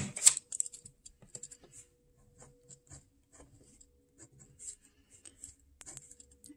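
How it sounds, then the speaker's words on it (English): Pen or pencil writing on a sheet of paper while working a maths exponent problem, heard as soft intermittent scratchy strokes and taps close by, with quiet pauses between bursts and no talking. "let me write this on a separate piece of paper."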